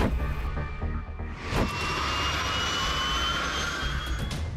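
Steady loud turbine whine and rotor roar of a police helicopter engine running close by, continuous throughout with no voices.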